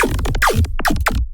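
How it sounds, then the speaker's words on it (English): Synth laser zaps from Serum, layered with noise, vocoder and OTT compression: a rapid run of bright, sweeping bursts, several pitch-diving, loud and close with brief gaps between hits. "just like a lasery zap with some noise on it"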